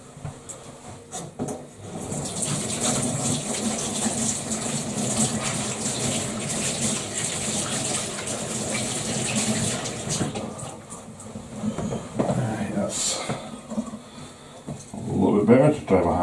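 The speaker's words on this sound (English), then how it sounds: "Just gonna give my hands a quick wash to get some of this off" Hands are washed under a running tap, a steady gushing splash of water that holds for several seconds with a few clunks and shifts in the flow, then eases off near the end.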